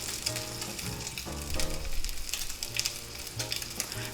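A sous-vide eye of round steak sears in a cast iron pan, giving a close, steady sizzle with crackling pops and a low tonal hum beneath.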